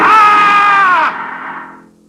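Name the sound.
man screaming as he wakes from a nightmare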